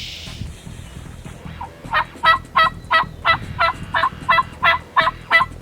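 Wild turkeys gobble repeatedly in an open field during a hunt, a run of about eleven rapid, evenly spaced gobbles that sound fairly close and clear over quiet ambient noise.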